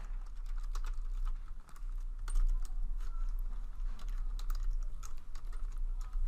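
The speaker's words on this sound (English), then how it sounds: "If I can type" Computer keyboard typing in a quiet room, a steady run of quick clicking keystrokes with short pauses, heard alone over low background hum.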